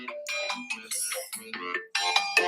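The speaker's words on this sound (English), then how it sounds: "Ain't answering the phone while I'm going live." A phone ringtone plays as a bright, melodic chiming tune, loud and close, repeating in short phrases with a brief break.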